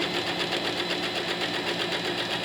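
Sewing machine stitching fabric ribs, a fast steady mechanical whir with a rapid regular pulse, close and alone with no talk.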